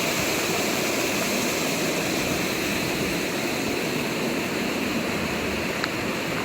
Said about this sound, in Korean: 시원하게 내려갑니다 물이